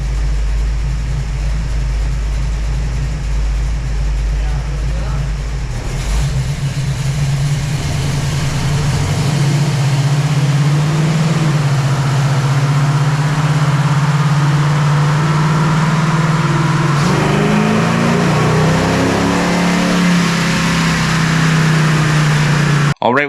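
A 440 big block in a 1970 Dodge Challenger R/T runs on a dyno, a loud, steady engine drone that slowly climbs in pitch and continues for over twenty seconds with no one talking over it.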